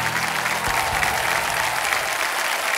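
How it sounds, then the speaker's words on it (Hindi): Studio audience applause on a television quiz show, KBC Season 14, a dense steady clapping from many hands that fills the whole stretch at an even level with no talk over it. "एक बार तालियों के साथ इनका हम अभिनंदन करते हैं।"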